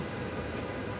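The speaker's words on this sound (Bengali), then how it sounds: "আমি আছি কাজীপাড়া মেট্রো স্টেশনে। যাই দেখি, ট্রেনের জন্য ওয়েট করি।" A metro train at Kazipara metro station gives a steady, moderately loud rushing rumble for a brief moment, with no voices over it.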